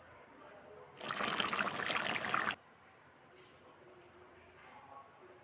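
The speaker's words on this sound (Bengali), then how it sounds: "এই যে আমাদের ঝোল কিন্তু ফুটে গেছে।" Chicken and capsicum curry broth boils in a pot, giving a brief burst of bubbling hiss about a second and a half long over a steady high-pitched background whine.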